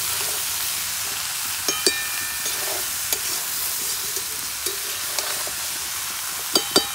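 Bengali fish curry with small fish is stirred in a pan, giving a steady sizzle with scattered clicks and taps of the spoon against the pan, a louder cluster of taps near the end, with no voices.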